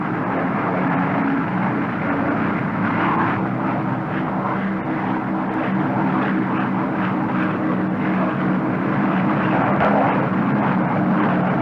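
Steady, loud drone of the Northrop P-61 Black Widow's twin piston engines turning propellers, a continuous rumbling hum with no break for the full stretch.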